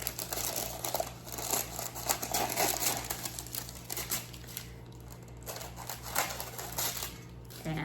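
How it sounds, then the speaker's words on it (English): Scissors trimming excess parchment paper around a sourdough loaf beside a hot cast iron Dutch oven, a close run of crinkling, snipping and rustling over a low steady hum. "I'm just gonna trim the excess parchment paper."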